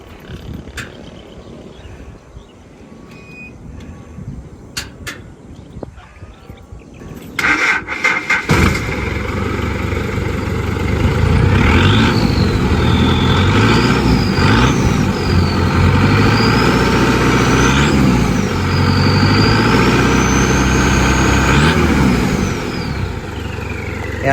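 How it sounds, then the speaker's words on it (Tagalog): An FPJ-style owner-type jeep's engine turns over and settles into a loud, rough idle, a deep steady rumble that starts abruptly about eight seconds in after quieter shuffling and holds strong to the end, with a rising whine riding over it. "yun yung andar ng makina niya"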